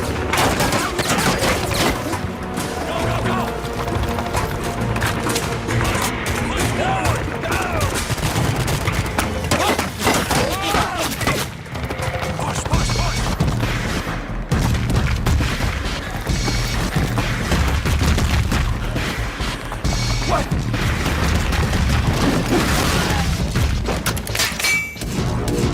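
Gunfire in Fallout: New Vegas, including a varmint rifle, rings out as repeated sharp shots and booming impacts over game music and effects, dense and loud throughout the stretch.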